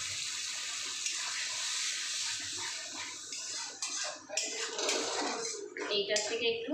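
Water poured from a mixer jar into a hot pan of cooking spices on a high gas flame, a steady wash of splashing and sizzling that grows louder and more broken toward the end.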